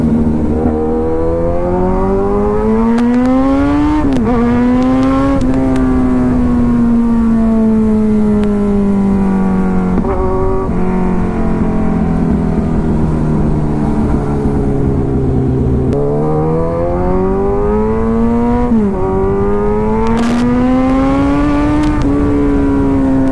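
Yamaha R15 V4 motorcycle with double disc brakes accelerating hard through the gears, its engine note rising in pitch, dropping at each shift and climbing again, loud and close with no talk over it.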